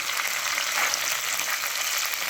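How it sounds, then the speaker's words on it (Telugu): Green chillies and onions fry in hot oil in a pan for a cauliflower masala curry, making a continuous bright, close sizzle with no voices. "పచ్చిమిరపకాయలు వేసుకుంటున్నాను."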